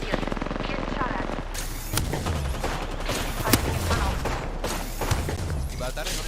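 Rapid bursts of automatic gunfire and single shots crack through a video game firefight, dense and continuous across the clip, with voices talking over the shooting.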